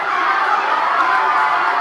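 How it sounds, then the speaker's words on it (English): A wrestling crowd at a live pro wrestling event keeps up a steady, dense roar of cheering and chatter, close and loud throughout without breaks. "Seems the crowd would love to see it."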